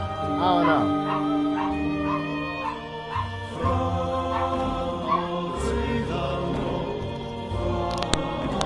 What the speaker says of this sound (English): I apologize for the barking, but yeah.